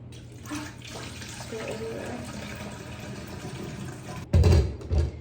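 Filtered water pours steadily into a humidifier's tank, a continuous trickling wash that ends in a brief louder gush and splashing.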